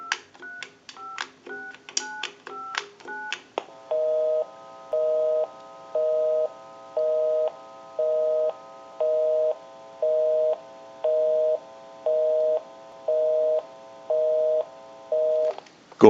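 A single-slot payphone being dialed, a quick run of about a dozen touch-tone key beeps, followed by a steady repeating ringback-style tone that pulses on and off evenly for roughly twelve seconds, loud and clear with no voices.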